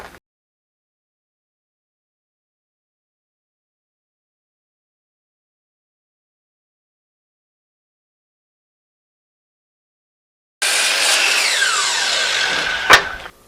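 A power saw trims lumber rack brackets to a matching angle against a stop block, bursting in loud and close after a long silence and running steadily for about three seconds before cutting off.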